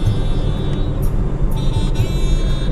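A desert safari vehicle drives into the Dubai dunes, its engine giving a steady close-up rumble with faint whining tones and a few small bumps, no voices.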